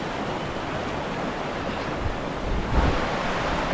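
A mountain waterfall in snowy high terrain on the route from Lachung village to Zero Point, rushing as a dense, continuous broadband roar, close and steady with a slight surge near the end.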